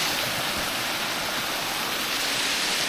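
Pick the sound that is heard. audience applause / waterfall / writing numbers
waterfall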